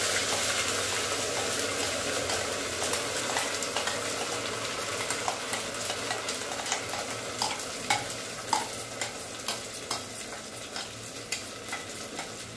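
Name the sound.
sautéing coconut and onion paste in oil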